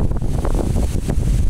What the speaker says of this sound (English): it's starting to get very windy.